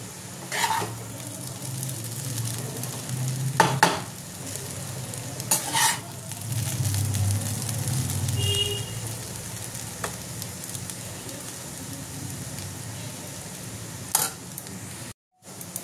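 Chicken chowmein noodles with a little tomato sauce sizzle in a pan while being stirred and mixed, giving a continuous hiss with several loud scraping, clattering bursts of the utensil against the pan.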